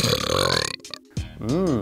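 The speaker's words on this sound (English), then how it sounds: "That burp sounded delicious." A loud, long, wet burp sound effect rumbles close and alone, breaking briefly before a warbling, wavering finish.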